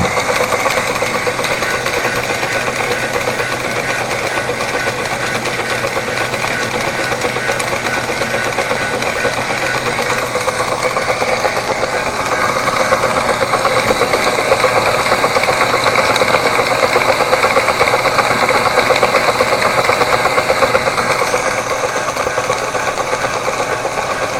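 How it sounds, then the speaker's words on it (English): Live steam engine driving a river launch while under way, a steady close mechanical chugging and rapid rhythmic beat with hiss, continuous throughout without talk. "Well, finally under steam, everything going."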